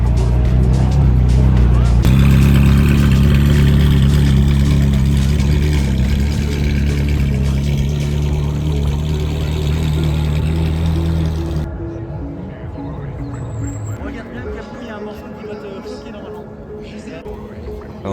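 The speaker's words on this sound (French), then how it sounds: "même d'ici, on entendait les moteurs" Drift car engines at the French Drift Championship roar and rev loudly for a long stretch, a dense mechanical drone that suddenly cuts down to quieter background rumble near the end.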